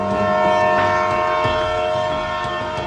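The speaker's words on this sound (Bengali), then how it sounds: "ভাই ভাই সরেন, ট্রেন আইতাছে।" A train approaches along railway tracks, a steady loud rumbling roar with a sustained horn-like tone over it, close and continuous throughout.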